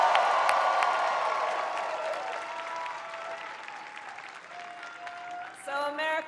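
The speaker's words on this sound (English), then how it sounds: "Can we all applaud our first-time voters?" A large crowd at an election-eve political rally in Philadelphia applauds and cheers. The sustained clapping and whoops gradually ease, and a speaking voice comes in near the end.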